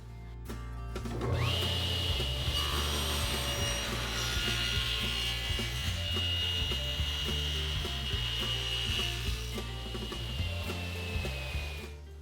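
A table saw blade cuts a rabbet in wood, spinning up sharply then holding a loud, steady whine with a grinding, rough undertone for about ten seconds before winding down, no talk.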